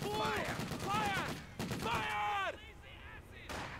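Gunfire from the World War II strategy video game Company of Heroes 2, with repeated shots and bursts mixed with in-game voices and battle sounds at a fairly loud level.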